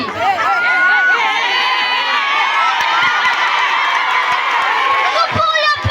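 Children at a school event in a French-speaking setting cheering loudly, with shouts and whoops rising over a dense crowd, and voices calling out near the end.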